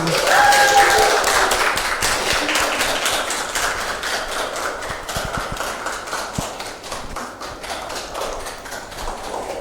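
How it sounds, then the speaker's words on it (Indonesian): Classroom of students clapping hands together during a microteaching lesson, a dense, steady patter of claps that starts loud and gradually thins and softens over about ten seconds. "mari kita berikan tepuk tangan untuk kita semua"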